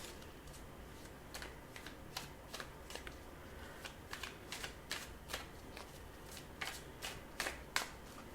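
Tarot cards are shuffled by hand in repeated crisp riffling bursts, close and fairly quiet, with no talking over them.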